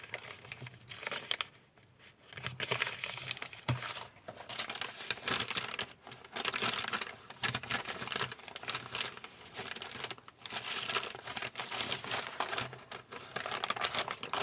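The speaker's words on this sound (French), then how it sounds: "le papier n'a pas du tout le même bruit que mes autres feuilles quand je les ai pliées" Close, continuous crinkling and crumpling of paper being handled and folded, with brief pauses between bursts of rustling.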